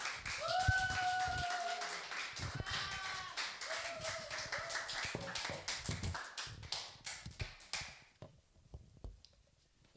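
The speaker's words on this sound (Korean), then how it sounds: "그래서 우리 선교사님 앞으로 나오실 때 큰 박수로 환영해 주시기 바랍니다" A church congregation claps in welcome for a visiting missionary at a Christmas Sunday service, a dense run of handclaps over about eight seconds with a voice speaking through the first part, then fading to near quiet.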